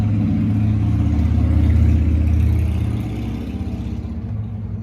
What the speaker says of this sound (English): Letting the motorcycle go past.